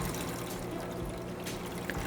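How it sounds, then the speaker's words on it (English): Water gushes steadily from the opened bleeder on a filter housing during cleaning at an equine facility, a loud continuous rushing pour with no pauses. "That way I've got as much pressure of that water coming out."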